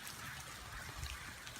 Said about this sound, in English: it's raining all day long